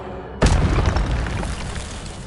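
Incendio fire spell cast in Hogwarts Legacy: after a brief quiet lead-in, a sudden loud booming burst of flame that rolls into a sustained roaring crackle and slowly fades.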